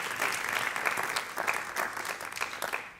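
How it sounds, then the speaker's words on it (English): Applause from a forum audience after startup pitches, a sustained, fairly soft clatter of many hands that swells slightly and tapers off at the end. "Round of applause to you"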